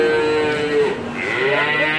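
A Belgian Blue cow moos at a livestock market, one long, loud, close bellow that shifts pitch midway through and fills the whole moment, with no talk over it.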